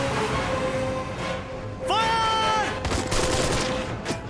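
Bursts of gunfire crackle amid a loud, busy scene, with a sharp ringing metallic whine cutting through midway.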